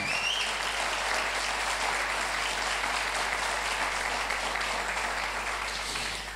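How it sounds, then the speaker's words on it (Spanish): Loud, dense applause rises from a church congregation and holds steady as a continuous roar of many hands for several seconds, then tapers slightly at the end. "Den un aplauso al Señor Dios Todopoderoso"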